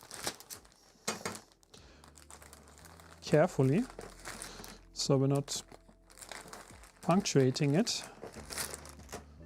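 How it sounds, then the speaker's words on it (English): Plastic bag crinkling as LDO linear rails for a 3D printer build are slid inside, loud close rustles in uneven bursts, with someone speaking between and over them. "we're going to put all of these linear rails into this plastic bag."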